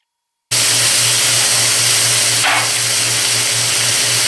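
Onions and garlic cooking in oil in a pan while making cube steak give a loud, steady sizzling hiss that starts abruptly and holds evenly, with a low hum beneath and a brief brighter flare midway.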